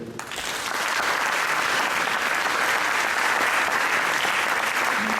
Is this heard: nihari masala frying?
no